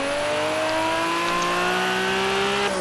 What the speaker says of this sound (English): What car in 87 do you know has a turbo squeal like this and sounds meaner than the modern day muscle car?